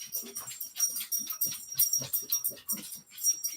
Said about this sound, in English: Yes, doggies.